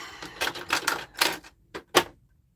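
A home sewing machine stitching a sling bag in uneven bursts, several rapid clattering runs followed by two short separate jabs as the machine balks at the fabric, close and alone.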